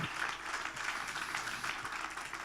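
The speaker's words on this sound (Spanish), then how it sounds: "Fuerte ese aplauso de alabanza al Señor." Steady, continuous applause from a church congregation, a dense wash of clapping that holds at an even level throughout.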